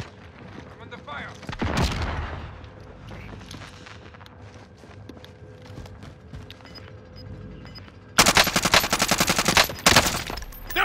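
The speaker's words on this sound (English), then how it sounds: "I'm under fire." Automatic gunfire in Call of Duty Warzone Rebirth: a sharp burst near the two-second mark, then a long, loud, rapid volley near the end. Quieter battlefield ambience runs between the bursts.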